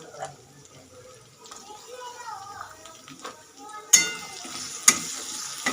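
Chopped onion fries in a pan while a home cook prepares a vegetable dish, with a low, steady sizzle, soft stirring scrapes, and two sharp utensil clinks near the end.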